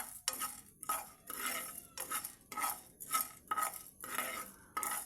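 A spoon stirs and scrapes spices and cardamom in a pan while cooking chicken pickle, giving repeated rhythmic metallic scraping strokes, close and fairly quiet, with only faint sizzling.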